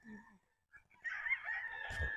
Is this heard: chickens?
yes